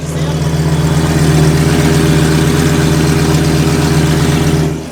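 A Lamborghini Gallardo with a straight exhaust idles close by, a loud, steady, rumbling exhaust with a harsh, throbbing engine drone that holds constant throughout before easing slightly at the end.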